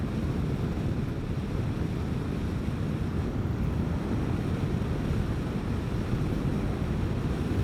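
Riding a Vespa GTS 300 Super Sport scooter on a country highway: a loud, constant roar of wind buffeting the helmet microphone, steady and unbroken throughout, with no voices.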